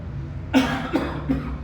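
Three short, sharp coughs in quick succession, close and fairly loud, with nothing else around them.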